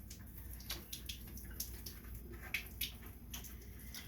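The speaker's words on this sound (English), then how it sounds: "Then we're gonna add the water to that." Water poured onto dry bread-dough ingredients in a home kitchen, a faint trickling and splashing with scattered small drips and clinks.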